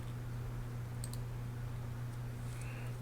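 A couple of quiet computer mouse clicks land close together near the middle while working in Toon Boom Harmony animation software, heard over a steady low electrical hum.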